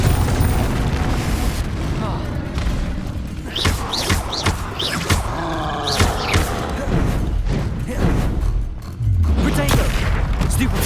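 Repeated Confringo fire spells exploding during combat in Hogwarts Legacy, a dense run of booming blasts and thuds layered with spell whooshes and game effects across the whole stretch, with voices calling out over the fight.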